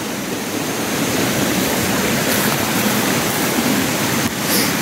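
A stream flows steadily close by outdoors, a dense, loud, continuous rush of water with no breaks.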